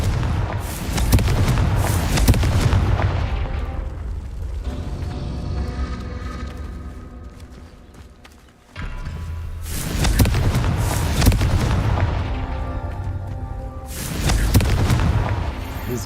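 Confringo fire spell explosions in Hogwarts Legacy on hard mode: heavy booming blasts arrive in loud, dense clusters at the start, middle and end, with a rumbling lull between them.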